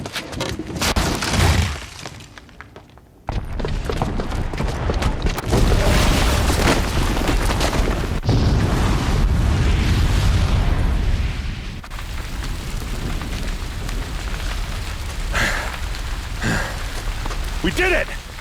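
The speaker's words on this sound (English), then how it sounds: "the booby trap on the bomb downstairs is gonna get set off" A booby-trapped bomb detonates in Horizon Zero Dawn, a loud sustained blast with heavy low rumble, shattering and debris clatter rolling on for many seconds amid game sounds.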